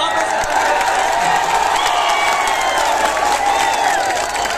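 A large audience at a poetry recital applauding and cheering at once, a dense continuous roar of clapping and whoops that holds steady throughout.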